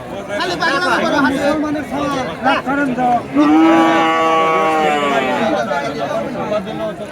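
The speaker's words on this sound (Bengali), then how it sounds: "গরু" Dairy cows at the Aronkola cattle market in Ishwardi, with one drawn-out, nearby moo rising over busy chatter and calls from the crowd of traders.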